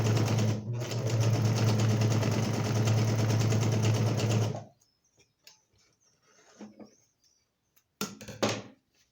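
A sewing machine runs a straight and curved seam in a loud, close rhythmic whir for about four and a half seconds, then stops, leaving small handling clicks and a short burst of rustling.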